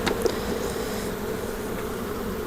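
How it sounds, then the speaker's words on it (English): A hive colony of honeybees drones in a dense, steady buzz close by, the hum holding constant throughout with a couple of slightly louder passes near the start. "There are a lot of bees down in here."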